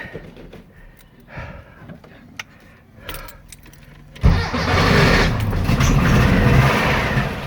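A Volkswagen Beetle with a Type 4 engine and an old turbo muffler turns over and settles into a loud, steady rumbling idle with a deep throaty exhaust tone, after some quiet clicks and handling noises.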